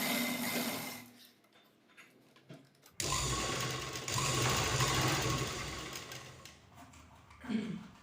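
A sewing machine stitches a cross strip onto a blouse lining in two bursts of rapid mechanical whirring and ticking. A short quiet pause with faint clicks separates them, and the second run is longer and louder.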